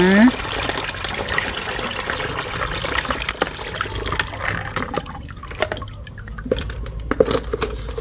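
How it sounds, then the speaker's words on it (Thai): Water strains through a filter to remove charcoal bits from a mixture soaked overnight, making close trickling, splashing and dripping sounds, while someone talks over it. "ก็มากรองค่ะทุกคนกรองด้วยน้ำนะคะนำเศษถ่านออกนะ"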